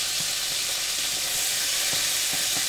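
Chicken frying in a pan, giving a loud, steady close-up sizzle and hiss with occasional small pops and no voices.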